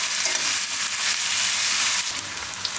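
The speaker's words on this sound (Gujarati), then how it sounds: "થોડીક વાર આને તેલમાં પાકવા દઈશું." Eggplant pieces frying in hot oil in a pan for eggplant fried rice, giving a dense, continuous close-up sizzle with faint stirring scrapes throughout, no voices.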